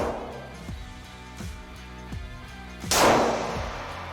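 Handgun shots at a gun shop's indoor shooting range, several sharp reports spaced about a second apart with ringing echoes, then a louder, broader blast near the end, close and prominent with no talking.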